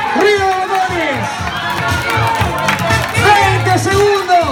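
A casino tournament crowd shouts, whoops and claps loudly, with rising excited yells and chatter close around amid the scattered applause.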